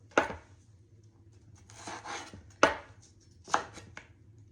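Knife chopping green onions and peppers on a cutting board, four sharp separate chops with short pauses and a little scraping between them, close and clear in a quiet kitchen.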